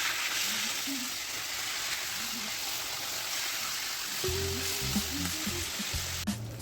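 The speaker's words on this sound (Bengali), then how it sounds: "ট্যাংরা মাছগুলো তেলের মধ্যে দিয়ে দিলাম" Tengra fish sizzle and spit as they fry in hot oil in a wok, a dense, continuous crackle that stays loud throughout, with a low hum entering near the end.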